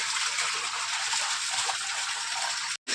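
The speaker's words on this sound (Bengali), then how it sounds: "জল চালিয়ে ধোয়া হচ্ছে" Running water gushes steadily over a blanket being washed at home, a continuous splashing rush with no pause, cutting out abruptly just before the end.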